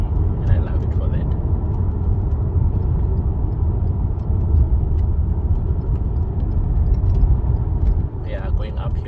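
A Lexus IS200t accelerates hard uphill, its engine producing a loud, sustained low drone and road rumble that holds steady throughout, with a brief dip near the end and faint voice traces over it.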